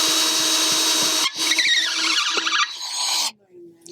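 A power drill runs at high speed while framing a wooden fort floor, whining steadily for over a second, then pulsing and revving in bursts before cutting off, close and loud.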